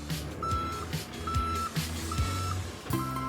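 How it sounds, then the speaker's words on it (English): Reversing alarm beeps from a road sweeper sound four times at an even pace over the rumble of a heavy vehicle engine. "Can you hear that alarm? That's the sound the road sweeper makes to warn everyone that it's reversing."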